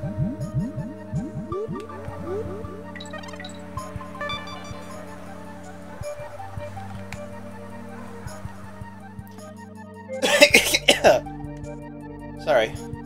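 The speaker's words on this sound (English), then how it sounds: "Just coughed." A person coughs several times in quick succession, loud and close, over background music from the Donkey Kong Country 3 video game, with talking earlier on.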